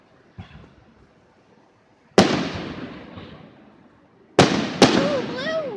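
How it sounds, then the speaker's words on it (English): Fireworks bursting nearby in three loud sharp bangs, each followed by a crackling decay, with one faint earlier pop and a whistling trail near the end. "These are the pretty fireworks."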